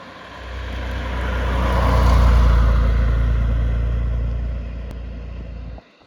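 MGC GT car cruising at 70 to 80 miles an hour, a loud steady low engine and road drone that swells, holds for several seconds, then drops away abruptly near the end.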